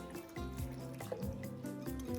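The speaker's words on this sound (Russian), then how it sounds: "теперь эту воду я вливаю сюда" Water is poured into flour for Ossetian pie dough, giving a soft, quiet, continuous trickling fill with faint gurgles.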